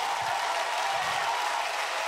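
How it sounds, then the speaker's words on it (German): Concert audience at a show in Leipzig clapping, a steady dense wash of applause throughout with no voices on top. "Ihr könnt auch gerne einfach mal so klatschen."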